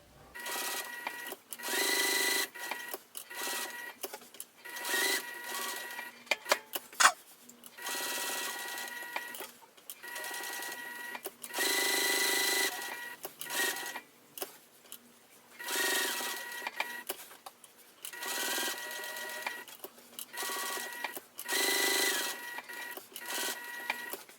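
Sewing machine stitching all the way around the edge of a fabric piece, running in steady bursts of rapid mechanical whirring with brief pauses between runs, close and fairly loud, with no talking.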